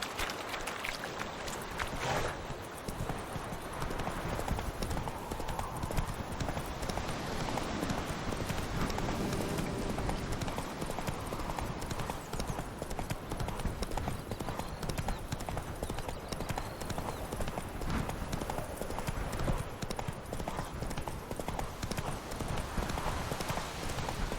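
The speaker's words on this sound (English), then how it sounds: "Whoa there, Roach" Hooves of a horse named Roach clip-clop steadily in The Witcher 3, a continuous rhythmic trot at moderate volume over a dense game soundscape.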